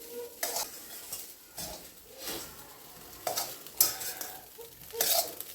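Cooked rice being mixed by hand in a metal pan for breakfast makes soft, repeated squishing and scraping strokes with occasional light metallic clinks, steady and close, without talking.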